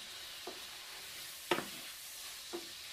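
Rice frying in oil, stirred in three brief scraping sizzles spaced about a second apart over a faint, quiet background hiss.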